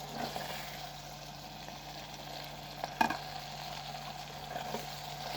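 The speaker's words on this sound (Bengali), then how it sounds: "তারপরেও মশলাটা একটু ভেজে নিই" Bay leaf, garam masala and white cardamom frying with garlic in a pan, a steady low sizzle with soft crackles and a brief clatter of stirring midway.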